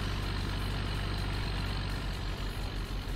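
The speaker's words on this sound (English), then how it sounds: "let's just turn that tractor down a little bit." A tractor engine in Farming Simulator runs at a steady low idle, a continuous rumbling drone with a deep throb underneath and slight wavering near the end, alone without speech.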